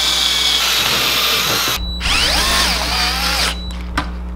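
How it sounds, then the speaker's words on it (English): Power drill with a multi-purpose bit pre-drilling sheet metal on a van build, a loud close whine that runs, drops briefly, then spins back up with a shifting pitch before cutting off near the end. "you're going to want to pre-drill the surface first. And I'm going to do that using this multi-purpose drill bit here."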